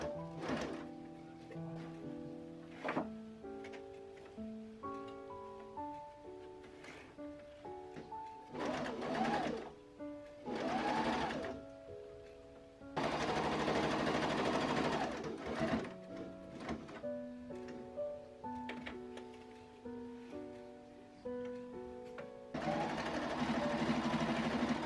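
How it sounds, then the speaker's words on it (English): Short bursts of home sewing machine stitching along a pocket on a dress made from a bedsheet, starting and stopping repeatedly under steady tonal background music. "we'll sew with 1 centimeter down here, then around the pocket"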